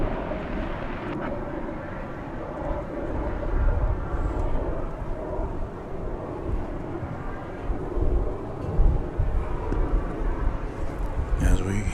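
An Airbus A340 jet airliner at DFW Airport gives a steady, broad engine roar that swells in places across the whole stretch, heard at a distance under ongoing commentary.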